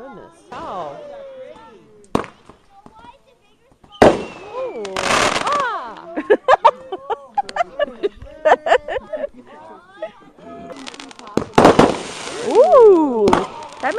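Loud backyard fireworks, an artillery shell type, burst in sharp separate bangs followed by crackling and fizzing spells over about fourteen seconds, while people talk and exclaim nearby throughout.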